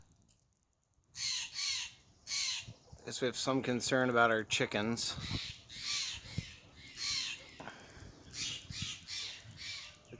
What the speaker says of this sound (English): So the Stellar Jays were freaking out in our yard, and now we know why.